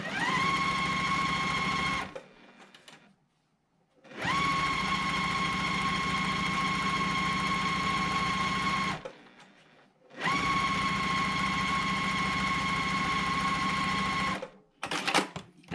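Sewing machine stitching quilt block pieces, red and orange corners joined, running in three long steady bursts of fast, even whirring with brief pauses between, close and loud.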